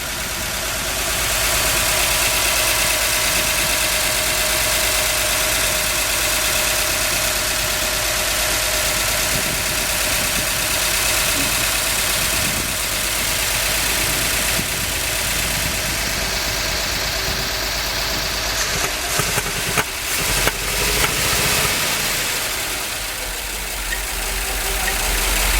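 A 1969 Chevrolet C50 truck with a big-block engine, revived after decades parked, idles steadily and loudly with a rough, knocking rumble throughout, plus some clanking near the end.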